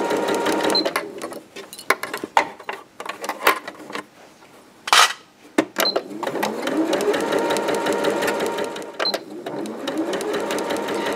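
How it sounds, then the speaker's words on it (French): A sewing machine runs a straight stitch along the edge of a tote bag, whirring in steady bursts with brief pauses and clicks, close up, while a voice talks in between. "c'est de la couture au point droit tout le long, au bord"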